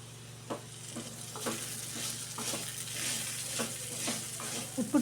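A spoon scrapes and turns salted elephant foot yam in a hot pan, giving soft repeated stirring strokes over a steady low sizzle, close and moderately quiet.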